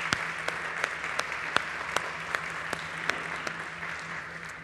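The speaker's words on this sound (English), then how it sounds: "I would love for you to give them a big round of applause." Steady applause fills a startup competition stage event as the judges are welcomed, a crowd of clapping hands with a few sharper, louder claps standing out at a regular pace throughout.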